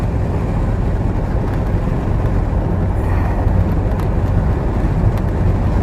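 A 2005 Jeep Rubicon drives in fourth gear with the torque converter clutch engaged, a loud, steady low drone of engine and road noise heard from inside the cab, unbroken and with no talking.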